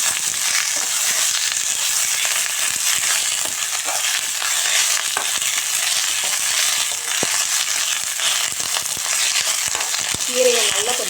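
Manathakkali greens sauté in a hot pan with a dense, continuous sizzle and crackle, loud and close throughout.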